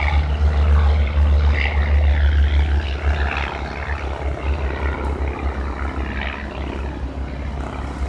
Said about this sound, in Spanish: estamos viendo cómo los aviones se levantan